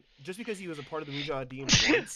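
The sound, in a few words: sneeze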